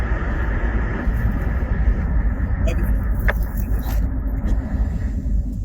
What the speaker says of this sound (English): I'm driving, so it might be a little loud.